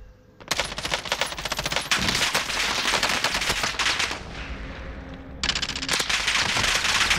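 Rapid bursts of automatic gunfire in the Warzone battle royale video game, loud close volleys with a brief lull before another burst near the end.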